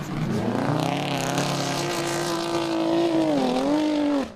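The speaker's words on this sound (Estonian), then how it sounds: "No kuulete, mis häält teeb selle Karel Piiroja auto." Rally car engine in an uphill drag race on snow, roaring loud and steady with a rising, sustained high-revving note that dips briefly near the end, no talk over it.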